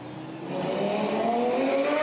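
Race cars run on the Circuit des Remparts street circuit during a practice session. A steady engine drone swells after the first half-second and holds loud, its pitch slowly climbing as a car accelerates. No talk.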